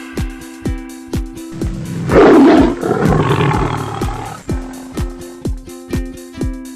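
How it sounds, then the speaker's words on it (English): A lion gives one loud, rough roar lasting about two seconds, set against a children's phonics song with a steady rhythmic beat that continues before and after. "L for lion."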